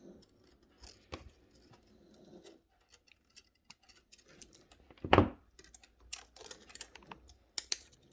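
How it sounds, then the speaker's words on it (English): Jewellery wire for a beaded pendant is snipped, giving one sharp, close clip among quieter small ticks and clicks of handling, with scattered light taps around it. "I'm just gonna cut that wire off from the beginning"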